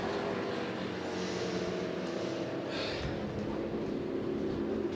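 Later-generation Australian supercar racing on the Winton Raceway circuit, a continuous loud engine roar that holds steady as it passes, with a brief higher whine midway and no talk.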